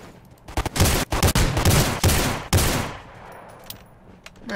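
Loud bursts of automatic gunfire in the battle royale game Rules of Survival played in first-person mode, a few rapid volleys in the first three seconds, then quieter game ambience.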